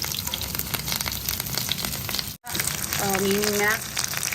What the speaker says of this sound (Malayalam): ചെമ്മീൻ ഇങ്ങനെ എണ്ണയിൽ കിടന്ന് ഇങ്ങനെ തിളക്കലാണ്